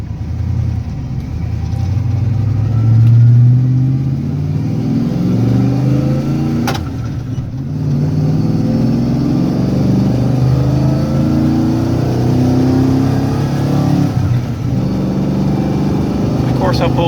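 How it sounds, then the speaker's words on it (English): A 1996 Ford F150 V8 pickup with a 5-speed manual drives along with a loud, steady low engine drone and road rumble from inside the cab, pitch rising and falling through shifts, with someone talking over it. "And yes, I am driving a 5-speed,"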